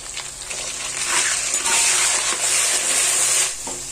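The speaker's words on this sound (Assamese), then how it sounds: "অকণমান ৰঙচুৱা হোৱাকৈ ভাজি ল'ম মই এতিয়া।" Potato pieces with a little turmeric sizzle in hot oil in a pan, a dense, continuous hiss of frying that stays loud throughout.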